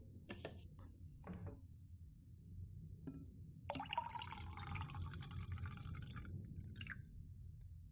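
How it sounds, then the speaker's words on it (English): A drink is poured into two glasses in a quiet indoor setting, with soft liquid trickles and glassy clinks. The pouring is close and gentle, with brief taps at the start and a sustained fill in the second half. "let me just pour one out for the both of us."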